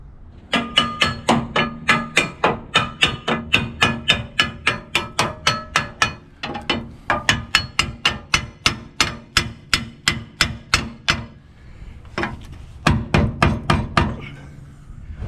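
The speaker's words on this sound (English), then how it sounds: "it may take quite a lot of work to pound it in with a big hammer" Repeated heavy hammer blows pounding a metal nut plate into a vehicle frame, a steady rapid series of sharp impacts with a brief pause, then a final quick burst of strikes.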